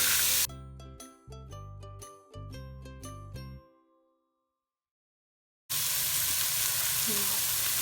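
Chopped onions with salt fry in a pan for a Nagercoil-style cabbage poriyal, a dense steady sizzle that starts abruptly after a stretch of melodic tones and silence.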